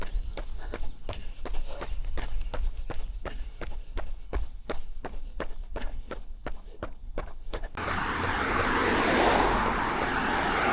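A runner's steady footsteps slap the pavement at an even rhythm, then a private jet flying low overhead swells into a loud, broad roar that swamps the steps.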